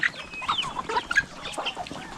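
Native chickens and their chicks cluck and peep in quick, overlapping bursts close by, a busy chatter of small calls throughout.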